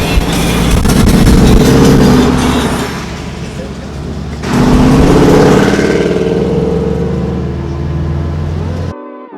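Loud car engines rev hard at the H2Oi 2018 car show on the East Coast, a close, sustained roar that dips briefly midway, then surges back before cutting off abruptly at the end.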